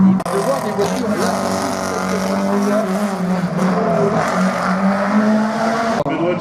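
Rally cars racing at the Saint-Lô slalom, a steady, loud engine whine with shifting pitch as a car accelerates past, continuous over the whole stretch, with voices faintly underneath.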